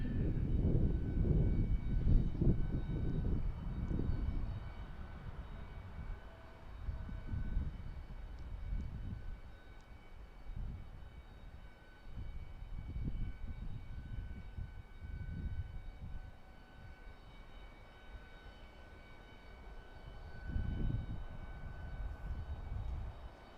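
An American Eagle Embraer E-170 airliner passes south of an airport viewing spot at MDT, a distant, surging jet rumble that swells and fades in waves for over twenty seconds with no talking.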